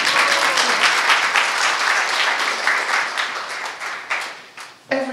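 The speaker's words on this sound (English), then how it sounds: "we can applaud that." Audience at a citizenship ceremony for new Canadians at Casa Loma, Toronto, applauding in a steady, dense burst of clapping that fades near the end as a voice begins.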